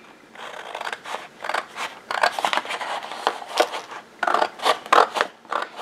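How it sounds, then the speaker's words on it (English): Repeated snips of scissors cutting through paper, close and crisp, in an irregular run of short cuts with brief pauses between them. "I'm just going to take my scissors and cut this piece down some"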